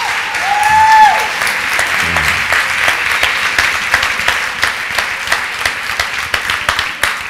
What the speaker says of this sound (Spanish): Vamos, aplauden.